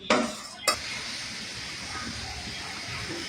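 Fish curry gravy with potatoes boiling in a cooking pot, giving a steady sizzling, bubbling hiss throughout, with two sharp utensil clinks near the start.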